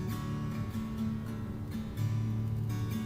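An acoustic guitar in open D6 tuning plays a steady, repeating fingerpicked pattern on its top three strings, with the notes shifting partway through, and no voices over it.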